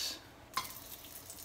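Lemongrass frying in hot oil for a goat stew (kalderetang kambing), a quiet steady sizzle with a small clink of a pan or utensil partway through, no voices.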